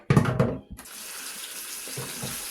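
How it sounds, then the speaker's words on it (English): Tap water runs into a sink to rinse vinegar off pork steak, starting with a few splashy gushes and clatters and then settling into a steady hissing stream. "You got to wash it real good again. Wash all that vinegar out."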